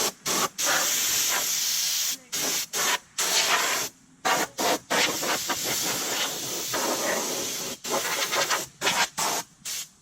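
Compressed air blasting off the bed and frame of a Ford F350 7.3 pickup mid-restoration, loud close hissing bursts in repeated blows separated by brief pauses.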